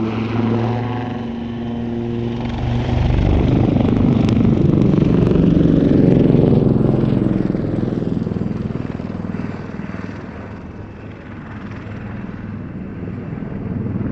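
A Wildcat helicopter performs a flying display at the RAF Cosford air show, its rotor and engine roar swelling loud and near, then slowly fading as it moves away.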